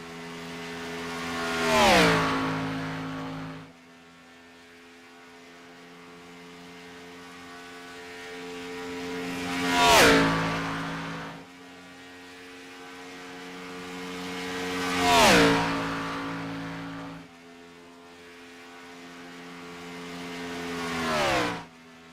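A race car engine screaming at around 10,000 RPM on a Michigan oval backstretch, with four cars roaring past in turn, each swelling loud then dropping in pitch as it fades away.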